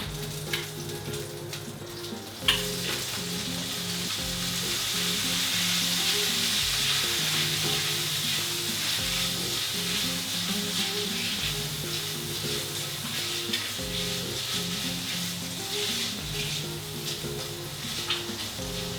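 Pasta frying and being stirred in hot bacon fat in a pan, a steady close sizzle with occasional scraping clinks, loud and continuous with no voices.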